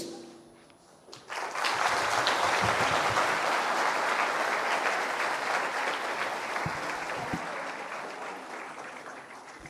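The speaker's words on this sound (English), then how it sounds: "Yes, one more round of applause." An audience applauds after a performance at a National Youth Day celebration, clapping breaking out suddenly after a quiet moment and holding as dense, loud, sustained applause that slowly tapers.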